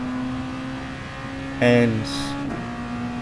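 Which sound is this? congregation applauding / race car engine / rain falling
race car engine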